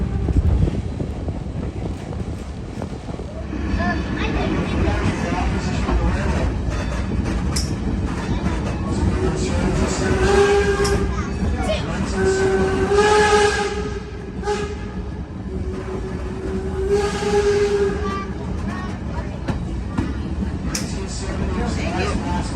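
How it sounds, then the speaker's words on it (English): A train pulls ahead through the Delaware-Lackawanna rail yard with a continuous rolling rumble, wind buffeting the microphone and a drawn-out tonal squeal or whistle in the middle, with no talking. "Soon enough, the train was pulling ahead, through Delaware-Lackawanna's yard."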